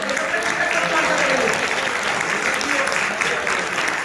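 Congregation claps during a church service, a loud, dense round of applause that runs steadily throughout, with faint voices mixed into the clapping.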